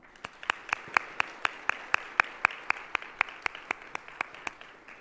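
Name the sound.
audience round of applause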